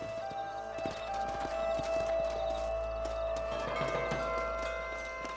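Horses in the video game Red Dead Redemption gallop with steady rhythmic hoofbeats and an occasional whinny, set against a continuous droning game soundscape.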